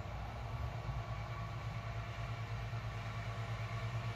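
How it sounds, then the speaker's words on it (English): A lawnmower runs somewhere outside, a steady, fairly faint motor drone with a buzzing harmonic hum that carries on without a break. "Sounds like somebody running a lawnmower out there."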